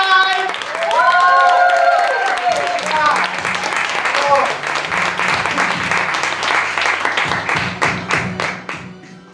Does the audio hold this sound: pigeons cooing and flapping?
no